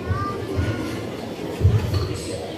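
A train departing from a station gives a rumbling, clattering drone with a few swells of rolling noise, while people talk nearby over it.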